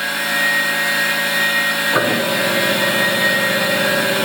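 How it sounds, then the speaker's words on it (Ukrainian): The hydraulic power unit of a 3A227P internal grinder kicks on midway, a sudden shift in a steady machine hum to a fuller, louder whirring drone that continues evenly. "Для цього включаємо гідростанцію."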